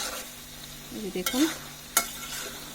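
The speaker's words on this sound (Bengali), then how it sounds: "এখন এটাকে ভালোভাবে নাড়াচাড়া দিয়ে দিচ্ছি" Chickpea curry with thick gravy is stirred in a pan, with a low sizzle, a few scraping strokes and a sharp utensil knock, while someone speaks briefly.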